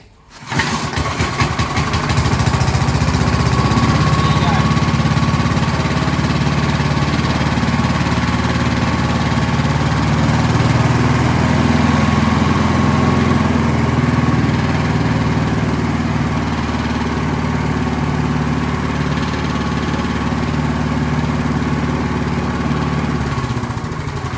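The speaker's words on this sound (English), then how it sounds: "Clearly the mower wants to run now. We saw that it just revved up quite nicely. It came back down to a nice idle." An alloy-bodied Briggs & Stratton four-stroke lawn mower engine catches after a pull start and runs loud and close, settling into a steady, unbroken idle that holds for the rest of the clip.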